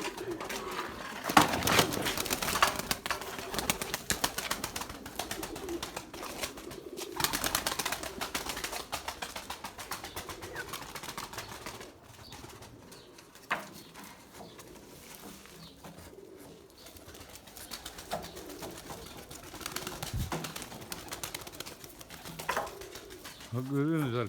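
Soft coos of Erzurum white pigeons repeat intermittently at moderate distance, with someone talking over them and some handling noise throughout.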